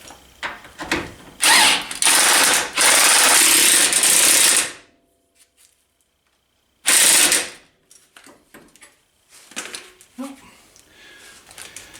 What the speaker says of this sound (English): I'm going to get a wrench and the impact tool and get those tightened